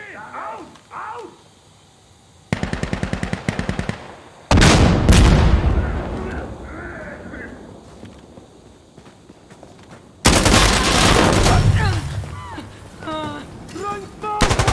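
Heavy gunfire in Insurgency Sandstorm, rapid automatic bursts and loud booming shots in several waves across the battle, with shouted voices and radio chatter between and over the firing.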